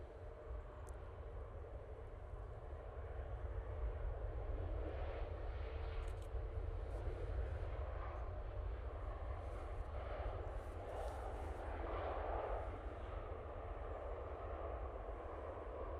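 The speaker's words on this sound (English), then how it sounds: "Air France A380 now coming in from Paris Charles de Gaulle Airport" An Air France Airbus A380 coming in to land at Manchester Airport after a flight from Paris Charles de Gaulle gives a steady, distant engine rumble and roar that holds level with slight swells for the full stretch, and there is no talk.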